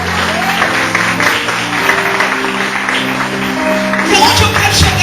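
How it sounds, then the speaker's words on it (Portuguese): A church congregation claps together during a Portuguese-language sermon, a steady, dense wash of applause that runs the whole time with voices and a tonal background sounding over it. "Você pode aplaudir ao Senhor por isso ou não?"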